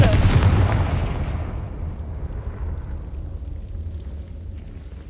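Confringo blasting spell explosion in Hogwarts Legacy, a sharp loud boom at the start that rolls into a long, fading rumbling tail.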